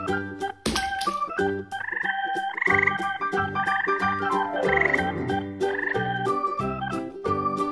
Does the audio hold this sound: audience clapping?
no